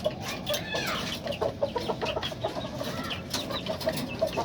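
Pet chickens clucking close by in a backyard coop, busy overlapping clucks and short calls running throughout with steady farmyard background noise.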